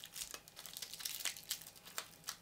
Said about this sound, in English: it has got some type of protective bubble, shrink wrap around it